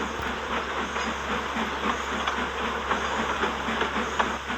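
A passenger train rumbles steadily along the rails with a low continuous roar and faint rhythmic clatter, close and sustained throughout.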